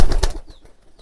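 Domestic desi pigeons flutter down in a short, close burst of wingbeats that fades quickly into near quiet.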